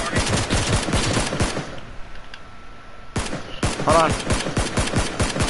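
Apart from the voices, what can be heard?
gunfire in the video game PUBG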